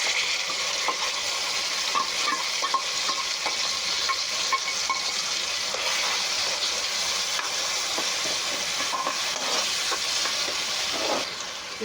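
Onion and ground masala paste fry steadily in a pan for an Andhra-style mutton intestine (boti) curry, a continuous close sizzle with scattered spatter and stirring scrapes, no voices.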